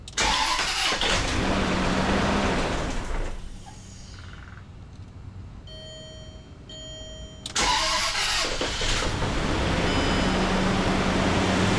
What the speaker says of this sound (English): we're gonna start the engine and run it for 30 seconds